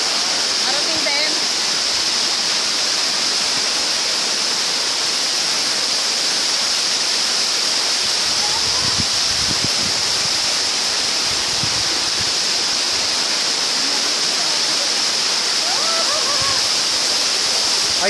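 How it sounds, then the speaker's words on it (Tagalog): Pongas Falls waterfall in Sagada, a loud, steady rushing roar of falling water filling the whole stretch, with people's voices faintly heard beneath it. "Pongas Falls"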